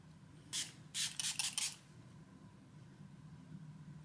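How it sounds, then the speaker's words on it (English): Several quick bursts of Milani Make It Last setting spray in the Fruit Fetish scent, a short hiss followed by a rapid cluster of three or four sprays, close and fairly loud over a quiet room. "I think it's important to use a long-lasting makeup setting spray"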